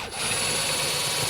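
A screw gun whirs steadily as screws come out of a Holden Rodeo RA steering column, a close, continuous buzzing that starts after a brief dip.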